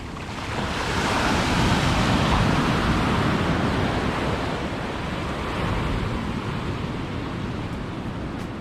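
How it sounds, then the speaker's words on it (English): Waves break and wash ashore on Coquina Beach in Florida, a steady close roar of surf with wind noise, swelling slightly early on and then holding even. "run into these waves, which are huge as well."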